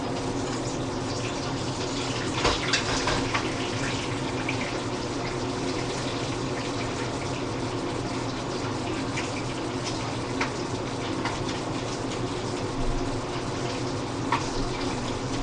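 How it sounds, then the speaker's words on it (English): Thick butcher shop bacon fries in a pan with a steady, dense hiss and crackle, unbroken and close throughout, with scattered sharper pops. "Sizzle, sizzle, sizzle."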